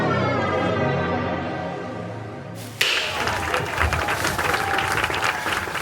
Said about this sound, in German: Ein ganz großer Applaus an dieses tolle Team